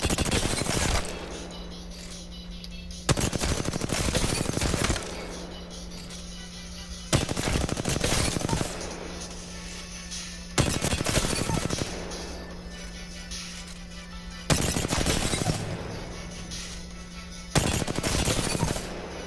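Apex Legends aim practice gunfire comes in repeated bursts of rapid automatic shots, each lasting one to two seconds, separated by short pauses with a steady game hum beneath them.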